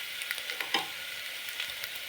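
Fenugreek leaves fry in a pan of curry leaves and masala paste for menthya pulao, giving a soft, steady sizzle with a few faint stirring clicks and no voices.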